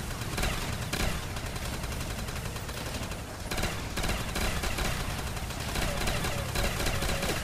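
Sustained bursts of rapid automatic gunfire from a zombie-shooting video game, loud and dense, with continuous overlapping shots and a brief lull near the middle.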